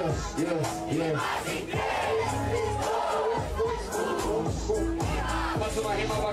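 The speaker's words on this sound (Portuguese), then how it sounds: "Faz o barulho da batalha pra nós" At a Brazilian rap battle, a dense crowd roars and shouts together in rising, sustained waves of chanting noise, loud and close, filling the whole moment.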